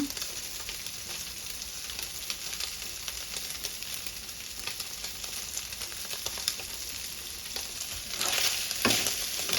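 Thai fermented pork neck naem roasting in a pan until golden, a steady close sizzle with frequent stirring scrapes that grows louder toward the end.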